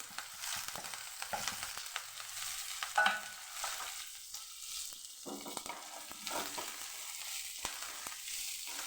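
Ginger, green chillies and curry leaves crackle and sizzle in hot oil with mustard seeds, chana dal and urad dal as they are stirred, a continuous close frying hiss broken by scraping stirs.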